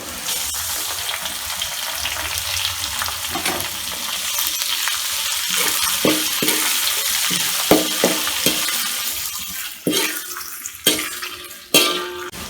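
Dried chillies go into a hot pan for a Chettinad salted mutton fry, giving a steady close sizzle with a series of sharp clinks and scrapes of a utensil against the pan toward the end.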